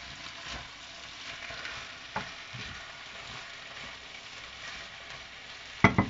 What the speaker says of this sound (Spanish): Removemos un poco para que se vayan mezclando todos los ingredientes.